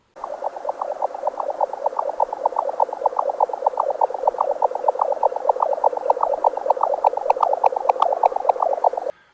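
A jack snipe calls in a rapid, steady series of clipped notes, loud and close, repeating evenly for around nine seconds with no voices; a few faint, sharper ticks join toward the end.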